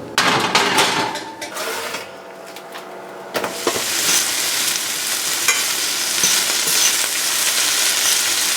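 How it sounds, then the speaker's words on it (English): Chickpeas with onion powder, cayenne and dill fry in a pan, a loud close sizzle that drops briefly with a few clinks and scrapes, then surges back into a steady hiss with no voices. "Just added the chickpeas, onion powder, a little bit of cayenne, and some dill."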